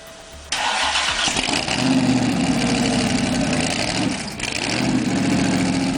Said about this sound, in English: let's talk about the Boss Haas Big Block